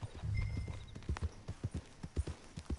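Horse hooves clip-clop in Red Dead Redemption 2, a steady rhythmic series of sharp, fairly close hoofbeats at walking pace, preceded by a brief soft snort or whinny, with no speech.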